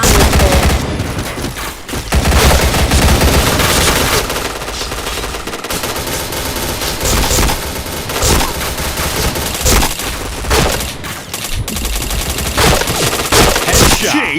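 Dense, continuous automatic gunfire from the video game Point Blank rattles loud and close in rapid bursts across the whole stretch, with only brief gaps.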